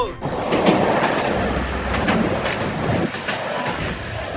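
The Kanchankanya Express rumbles along steadily on the Sealdah to Siliguri line, a continuous close rolling roar with faint wheel clatter throughout.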